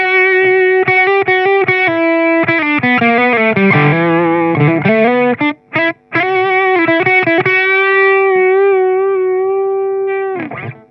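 Overdriven electric guitar through a Boss FDR-1 Fender Deluxe Reverb pedal at high gain plays a bluesy lead with bends and sustained notes, loud and continuous, ending on a long held tone.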